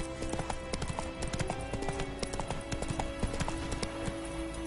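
A horse trots steadily through The Witcher 3: Wild Hunt, its hooves making a rapid, even clip-clop that carries on throughout, close and clear over a low game ambience.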